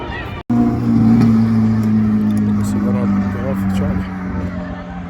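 Junior Banger race car on a lap of honour after winning the final at Cowdenbeath, a steady loud engine drone holding a constant pitch after a sudden start, with someone talking over it throughout.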